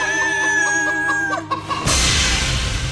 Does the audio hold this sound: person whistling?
no